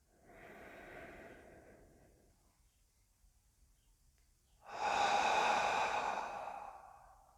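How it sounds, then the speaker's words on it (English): Two slow, close breaths: a soft nasal inhale, a quiet pause, then a longer and louder airy exhale through the mouth. "take a deep breath in through your nose and a long exhale out of your mouth"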